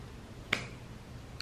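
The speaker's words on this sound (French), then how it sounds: "en un claquement de doigts" A single sharp finger snap rings out alone, crisp and close, followed by a faint second click near the end over quiet room tone.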